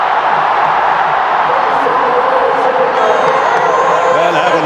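Huge stadium crowd of around 120,000 roaring and cheering at a T20 World Cup cricket final, a loud, continuous wall of voices with whistles and shouts rising through it.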